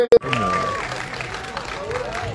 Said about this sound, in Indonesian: teman-teman boleh beri tepuk tangannya dong